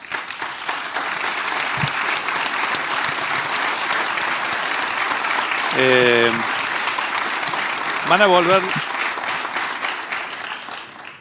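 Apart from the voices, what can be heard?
audience applause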